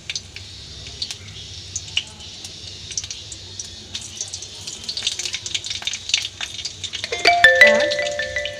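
Whole mustard seeds and two dried red chillies sizzling in hot oil for a sambar tempering, a soft steady frying crackle that grows busier with scattered pops toward the end, while a voice talks over it.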